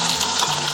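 Tofu and white beech mushrooms frying in hot oil in a clay pot with aromatics, a steady close sizzle throughout the short moment.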